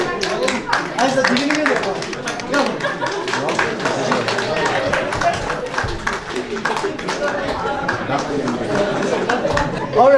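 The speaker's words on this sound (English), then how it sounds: "Give them a big round of applause" A school quiz audience applauds a team, dense clapping from many hands with crowd chatter mixed in, steady and fairly loud throughout.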